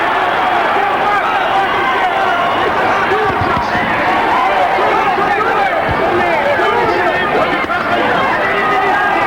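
Boxing arena crowd at the 1983 Larry Holmes vs Lucien Rodriguez bout, a loud dense roar of cheering and shouting urging Holmes on, sustained and close throughout.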